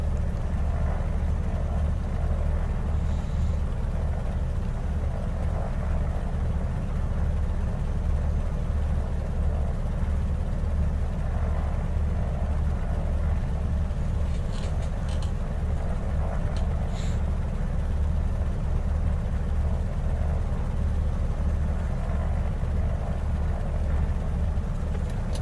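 Twin radial engines of a Beechcraft D18S idling on the ground in Microsoft Flight Simulator 2020, a steady low droning rumble with a constant throb, unbroken and without voices.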